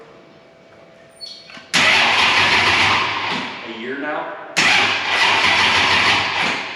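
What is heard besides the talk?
car engine cranking slowly on first start of the year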